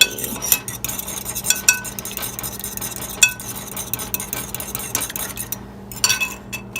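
Egg and vanilla lightly beaten in a bowl for butter tarts, a fork or whisk tapping and clinking against the bowl in quick irregular strokes, close up with a low steady background hum and no talking.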